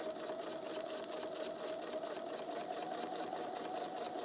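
A sewing machine stitches a quilting line through a flip-flop wall hanging with a patchwork foot, running at a steady, even speed close by with a continuous mechanical hum and no talk.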